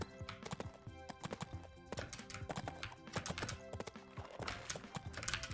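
Rapid, rhythmic clip-clop of horse hooves in a mobile game, Adventures with Horses, galloping steadily with a crisp, slightly synthetic quality over a faint background tone.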